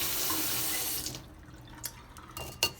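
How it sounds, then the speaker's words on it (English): Water tap running to rinse a bottle: a steady hiss of flowing water for about a second, then it stops, leaving faint drips and small knocks nearby. "Let me give this a quick rinse."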